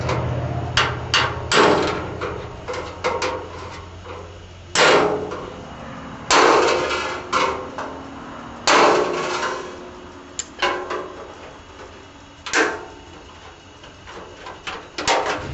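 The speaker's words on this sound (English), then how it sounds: "Now I gotta pop the spot welds loose." Sharp metallic hammer blows pop spot welds loose on hot rod grille sheet metal, striking in irregular bursts, some in quick clusters and others spaced apart, ringing close and loud with no talking.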